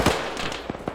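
A few sharp gunshot cracks in a military video game, three quick distinct bangs within a second at moderate loudness.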